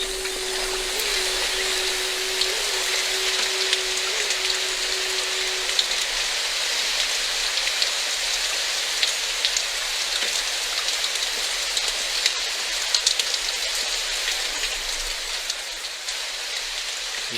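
Rain falling steadily and heavily, a dense continuous hiss with scattered sharper drops, a faint low tone running under it at first and fading out.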